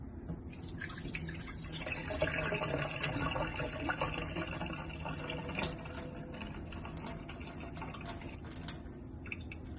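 Water splashes and trickles softly as food is rinsed in a second wash, a faint, close patter of drips and swishing that continues throughout.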